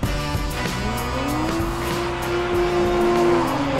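A Toyota GR Supra is driven hard, its engine revving loudly while the tires squeal in long rising and falling howls, close and intense throughout.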